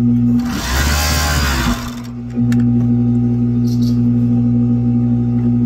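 A sewing machine stitches a double seam in a loud, fast burst of about one and a half seconds over a constant electrical hum, then stops, leaving the hum and faint clicks.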